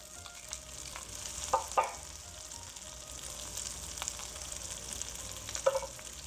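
Birria tacos sizzle and fry crispy in a hot pan, a steady close hiss of bubbling oil with a few louder crackles and pops, no voices.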